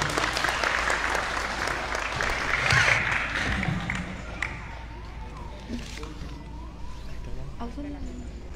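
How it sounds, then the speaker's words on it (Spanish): Audience applause at the inauguration of a municipal basketball school in Urdaneta, loud and steady for the first few seconds and then thinning out, with speech and a faint wailing siren-like tone underneath toward the end. "por cual invito a recibirla con un fuerte aplauso a la señorita Luna Burgos Caballero."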